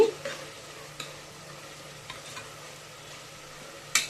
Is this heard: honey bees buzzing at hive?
no